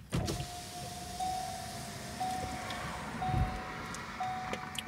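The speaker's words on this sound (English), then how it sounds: "I'm rolling down the window." A car's power window motor whirs in several steady pulls with short pauses between, close inside the cabin, with faint traffic in the background.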